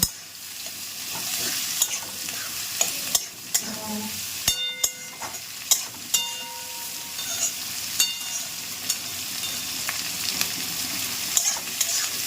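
Onions fry in a pan, a steady close sizzle punctuated by regular clinks and scrapes of a spatula stirring them.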